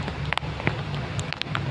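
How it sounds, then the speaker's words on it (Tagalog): Rain falls on a second-floor rooftop garden of pechay in a heavy storm, giving a steady close patter with a few sharper drops striking nearby. "Narinig nyo naman sa atin yung patak ng ulan."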